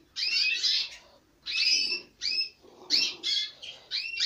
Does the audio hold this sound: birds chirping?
yes